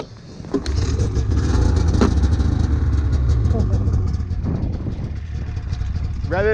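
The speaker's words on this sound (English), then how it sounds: "Rev it for like 30 seconds and close the choke" Small engine fired up near an ice shelf, a sudden loud rumble that settles into a rough steady running sound with slight revving, while people talk close by over it.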